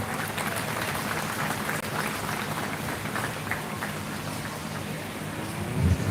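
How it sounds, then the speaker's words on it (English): Crowd applause for exhibitors at a 4-H/FFA feeder calf show at the Lancaster County fair, a dense, steady patter of many hands clapping, unbroken for several seconds like rain. "give our exhibitors here a nice round of applause"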